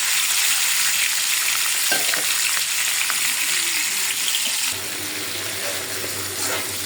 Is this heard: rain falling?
no